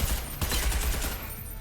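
Enemy shotguns firing in the Selaco video game, several sharp loud blasts in quick succession over a dense noisy background, with no talking.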